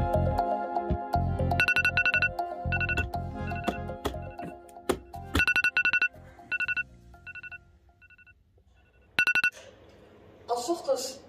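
A phone alarm rings in the morning as a repeating electronic tone pattern in short beeping bursts, with other music-like tones at first and quieter gaps between the rings.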